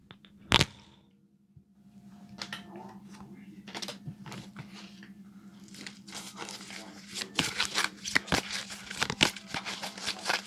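A deck of tarot cards is shuffled close by: a quiet start with one sharp snap, then a growing run of quick papery riffles and clicks over a faint steady hum.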